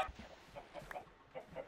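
Chickens clucking in a video game, several short quiet clucks scattered in an irregular rhythm, faint and with no talk.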